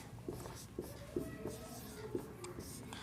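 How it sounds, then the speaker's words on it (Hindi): Marker or chalk writing on a board, a run of short, soft strokes in an irregular rhythm, faint and close, with light room noise between strokes. "तो भाई यहाँ पे लिखेंगे रमेश"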